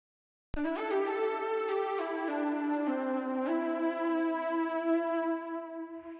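Analog synth lead patch from an Analog Lab preset bank, bright and harmonically rich, entering with a sharp attack and holding sustained notes that step through a slow melodic line, alone and up close with no talking.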